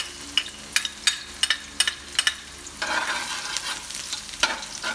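Garlic frying in a pan as the first step of a pork steak (bistig) dish, with sharp spatula scrapes and stirring clacks over a steady close sizzle that swells louder partway through.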